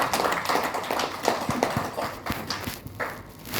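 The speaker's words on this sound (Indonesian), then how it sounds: "Tepuk tangan buat kita semua." Audience applause at an official speech event in Indonesia fills the clip as a dense, steady patter of many hands clapping, with a few sharper claps standing out.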